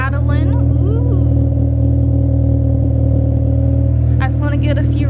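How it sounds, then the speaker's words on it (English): A Honda Del Sol that had sat in a field idles loudly and close by, holding a steady low rumble throughout. A voice talks over the start and end. "But here's how she sounds idling."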